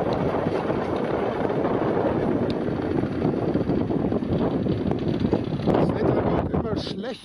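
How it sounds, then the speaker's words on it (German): Strong wind blows outdoors across open farmland, a continuous loud rushing buffet on the microphone, with a person talking beneath it. "Es ist immer noch sehr windig."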